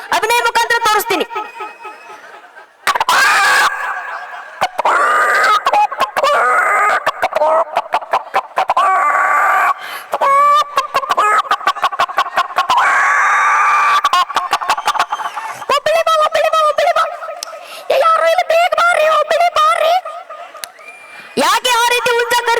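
A voice imitates a rooster calling to a hen, giving repeated clucks and crowing calls in loud, close bursts with brief gaps, mixed with spoken and laughing passages.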